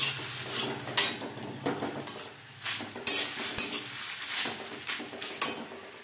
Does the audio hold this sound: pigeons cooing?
no